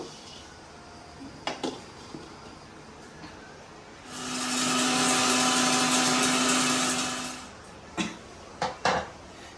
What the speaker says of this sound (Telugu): ఇప్పుడైతే నేను మిక్సీ పట్టేసుకుంటాను